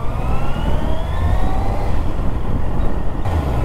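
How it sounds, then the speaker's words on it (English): Steady, loud Honda CBR650R motorcycle exhaust drone heard close to the exhaust, a continuous low rumble with a faint rising whine running through it. "the people around you won't be hearing this much of a loud noise from the engine"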